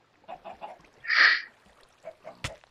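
Minecraft chickens on a chicken farm, a series of short close clucks and honking squawks in an uneven rhythm, one longer squawk in the middle and a sharp click near the end.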